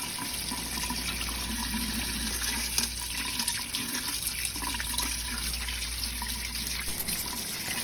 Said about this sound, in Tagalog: Una, hugasan natin maigi ang balon-balunan.